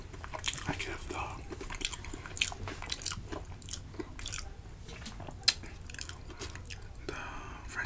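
Close, crisp bites and soft wet chewing of Jack in the Box French toast, irregular mouth sounds one after another, with quiet whispery speech now and then and one sharper crunch partway through.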